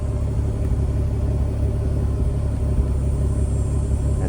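A 2017 BMW M6 idles steadily through a single muffler with twin exhaust exits, a deep, even low rumble heard up close with no talking.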